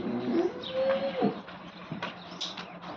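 A cow on a dairy farm gives one drawn-out, low, close moo lasting about a second, with faint farmyard rustling and shuffling around it and no talking.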